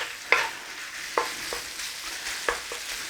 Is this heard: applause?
no